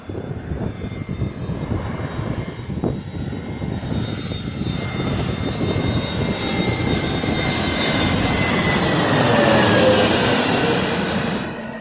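A Boeing 777 airliner landing at Birmingham Airport gives a continuous jet-engine roar that swells steadily over about twelve seconds, peaking loud and close before easing slightly, with a rising whine on top of the broad rumble.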